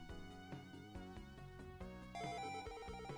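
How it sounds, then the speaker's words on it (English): Ringing phone in a stock-trading video game, an electronic ringtone with repeating melodic tones over game music, steady and fairly loud, no talk. "Phone is ringing."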